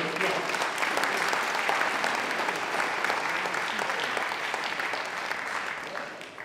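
A concert audience at a centenary concert gives a steady round of applause, a dense wash of clapping held evenly before tapering off at the close.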